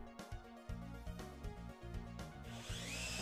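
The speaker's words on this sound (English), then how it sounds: "Continue to install more drywall sheets and secure with screws along the track positions." Screws driven through drywall sheets into resilient channel with a power driver, repeated short whirring bursts rising in pitch, close and loud, ending in a higher whine.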